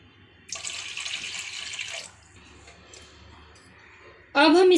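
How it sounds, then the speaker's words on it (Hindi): Two glasses of water pour into a pressure cooker holding dal in a steady rushing stream for about a second and a half, then drop to a softer trickle before a sudden loud burst at the end. "अब हम इसमें 2 ग्लास पानी डाल देंगे।"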